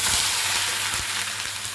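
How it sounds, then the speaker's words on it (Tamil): Chopped onions tipped into a hot pan of oil already spiced with cinnamon, cloves and fennel seeds, giving a steady close hiss and sizzle with a few soft clatters, no voices. "இப்போ வெங்காயம் கொட்டிக்கலாம்."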